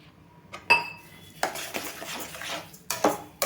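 A spoon scrapes and clinks against a pan as thick guava halwa with sugar is stirred, giving a few sharp metallic knocks between softer scraping strokes, close and moderately loud with no talk.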